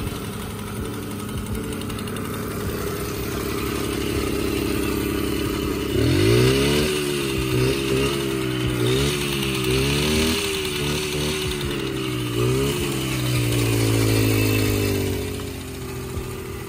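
A motorcycle with original Jikov carburetors fires up for its first start, a steady close idle that breaks into a series of sharp revs and blips before settling back, with no one talking.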